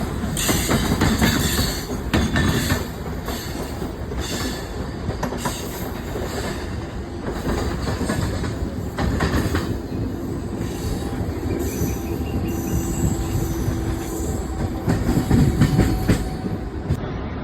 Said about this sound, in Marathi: तुम्ही बाजूलाच ट्रेन जाते मस्त व्ह्यू आहे एकदम